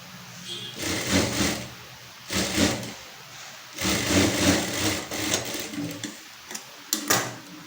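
Sewing machine stitching tucks on the back of a blouse, running in bursts of steady mechanical whirring with short pauses between stitching runs, close and moderately loud.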